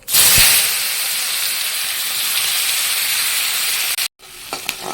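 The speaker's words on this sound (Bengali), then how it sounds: "পেঁয়াজগুলো লাল লাল করে দেবো" Onions, black cumin seeds and bay leaves sizzle loudly in hot oil, a dense steady hiss with a sharp burst as they go in and a brief cut-out near the end.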